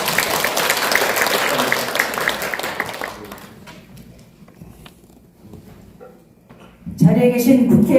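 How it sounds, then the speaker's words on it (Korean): Applause from the audience at an award ceremony for outstanding legislators, a dense broadband wash of clapping for about three seconds that fades into quiet murmuring, then swells again loudly near the end. "큰 박수 부탁드립니다"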